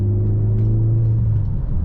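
A Peugeot RCZ THP200 with its exhaust backbox deleted drones from inside the cabin, a steady loud low rumble with a humming tone that rises slightly as the car pulls along.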